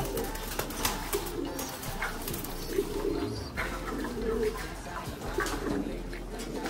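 Pigeons coo softly in a steady murmur, with rustling and light splashing water around them; no voices.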